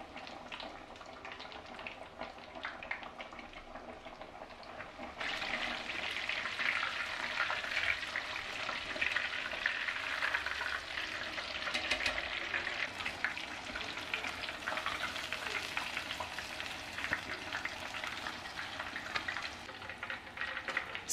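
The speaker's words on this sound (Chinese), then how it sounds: "继续把剩余的鸡排放进去炸" Chicken cutlets deep-fry in hot oil with a dense, steady crackling sizzle that grows louder and fuller as more pieces drop in partway through, continuing close and unbroken to the end.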